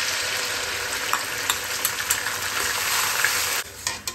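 Ginger garlic paste frying in hot oil for a spicy chicken curry, a loud, steady, close sizzle that holds throughout with a few faint spoon clicks, then dips slightly near the end.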